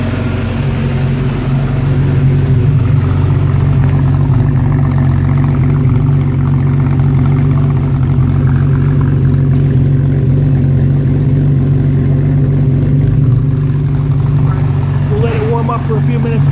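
A 1953 Jaguar XK 120 engine idles just after startup, a loud, steady, low rumble that holds an even rhythm close by for the whole stretch.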